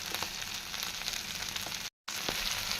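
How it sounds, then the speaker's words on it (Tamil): Taro root (chema kizhangu) frying in oil gives a steady, close sizzling hiss that runs throughout, broken by one brief moment of silence. "எண்ணெயிலேயே கொஞ்சம் நேரம் நல்லா வந்துட்டு வறுபட்டுருச்சு"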